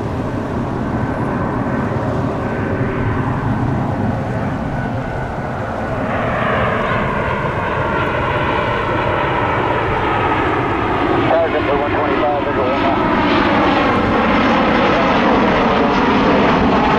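An airliner passes very close at Tampa International Airport. Its loud engine roar swells and shifts in pitch as it goes by, with a rising whine building toward the end.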